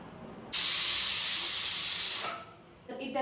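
A pressure cooker whistle blasts a loud, steady hiss of escaping steam for about two seconds, then fades and sputters back briefly, while cooking rice.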